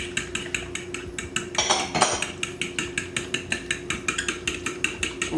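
Utensil whisking beaten egg into buttermilk in a bowl, a steady run of quick, even clinks against the bowl sides, close and fairly loud, with a brief scraping swirl partway through.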